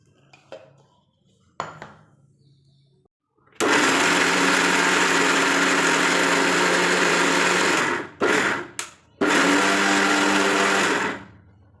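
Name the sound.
mixer grinder crushing dried coconut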